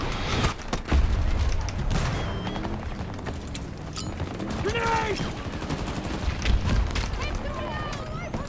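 Rapid automatic gunfire in the shooter Battlefield 2042, crackling bursts and close shots scattered through a chaotic firefight, with someone speaking in between.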